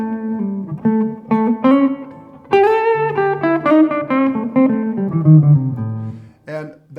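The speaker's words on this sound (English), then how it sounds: "when you're in the neck position only, you've got a full humbucker" Electric guitar played through a Telecaster's neck humbucker with a Toneshaper and a 500K volume pot gives a full, warm run of melodic single notes and short chords, upfront and steady, with no talking.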